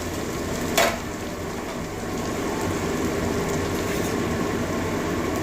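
Fish and whole garam masala frying in a pan: an even, continuous sizzle with a brief clatter near the start, sounding close and fairly loud.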